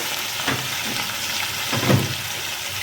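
Green chillies hit hot oil for an eel fish curry, making a close, continuous sizzle with a couple of brief spatters and stirring scrapes.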